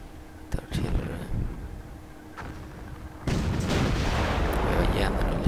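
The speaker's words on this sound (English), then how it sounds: "We are firing from here. The artillery." Artillery guns firing in a WWII strategy game set during Operation Barbarossa, with a few sharp booms early on, then a denser, louder stretch of rumbling blasts and crackle, under game ambience.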